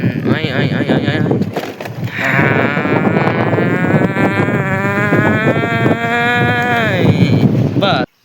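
A goat bleats in a long, wavering, drawn-out cry amid town surroundings, rising over steady background noise and people talking.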